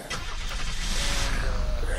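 A car engine starting in the video game Unturned cranks and catches into a rough, continuous running rumble, close and fairly loud for a couple of seconds with no talk over it.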